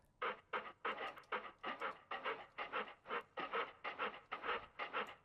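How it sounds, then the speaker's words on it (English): A dog pants quickly and rhythmically up close, about a dozen breathy huffs in an even beat, with no other sounds. "Here's Luke panting."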